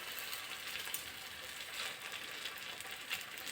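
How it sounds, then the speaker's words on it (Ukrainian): Potato-zucchini pancakes with minced meat fry in a pan of hot oil, giving a steady, even sizzle and crackle with no voices over it. "На сковорідку наливаємо олії, добре розігріваємо і будемо смажити наші деруни"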